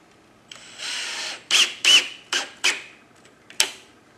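A power drill with its clutch set to 13 drives a screw, a sustained whir followed by several short, loud bursts of motor and clutch ratcheting, close and clear with no talk.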